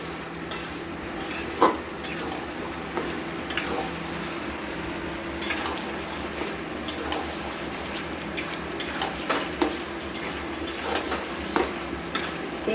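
Chicken pieces fry and are stirred in oil in a covered pan, a soft continuous sizzle broken by intermittent spatula scrapes and clinks against the pan, close and moderate in level, without talking.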